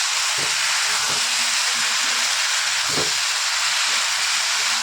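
Mixed vegetables and tomato with salt frying in a pan, making a loud, continuous, close hiss with a few faint stirring knocks underneath and no talking.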